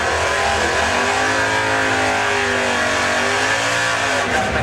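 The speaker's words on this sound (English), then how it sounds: "very powerful car with a large engine." A powerful drag racing car with a large engine roars loudly and steadily at the drag strip, its revving pitch rising and falling in sweeping waves with no talk over it.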